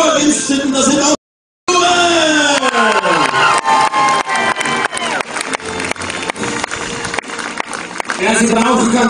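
Spectators at a medieval tournament at Riegersburg cheer in a loud burst of voices, broken by a brief gap, then continuing with shouts and scattered claps over a talking announcer.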